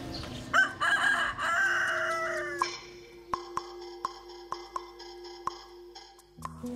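Rooster crowing loudly and close, one long drawn-out call, followed by a series of sharp tapping or clicking knocks over a faint steady hum.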